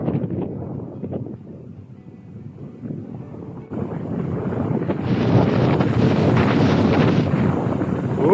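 Wind blows over a lake in a Belarusian village, buffeting the microphone with low rumbling gusts that swell from moderate to strong and roaring.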